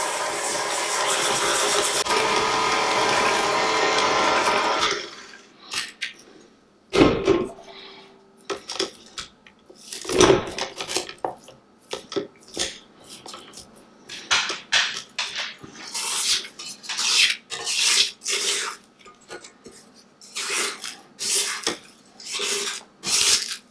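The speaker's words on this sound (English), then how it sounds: "Using the paddle attachment, I'm going to turn it on medium low, just to get the cream nice and fluffy" A stand mixer fitted with a paddle attachment creams butter and sugar at medium-low speed, a steady loud whir for the first five seconds, then stops, followed by scattered clinks and scraping clatters against the bowl.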